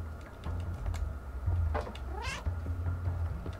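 A cat in the video game Stray lets out a short rising meow partway through, over low game ambience, light clicking and soft rustling.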